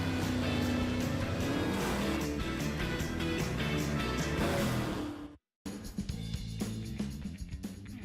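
A 1969 drop-nose muscle car's engine burbles low and steady close by, mixed with a busy music-like layer and a brief dropout near the end before the rumble resumes.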